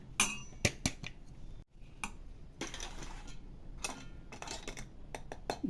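Spoon clinks and scrapes against a bowl while mixing ground puffed rice into mashed potato tikki mixture, giving irregular sharp ticks and soft scraping strokes, close and fairly quiet.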